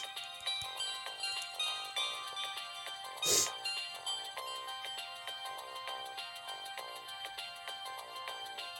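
Polyphonic ringtone from a Samsung SGH-X450 mobile phone plays loud and continuous through a speaker, a bright, busy melody with a brief louder burst partway through.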